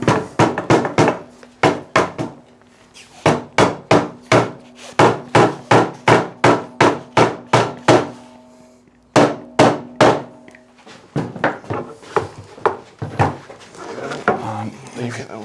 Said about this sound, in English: hammer those dominoes in there on that one.